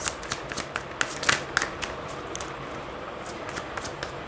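A deck of tarot cards shuffled close by, with bursts of crisp flicking and riffling and scattered sharper slaps that settle into lighter card rustling, with no talking over it.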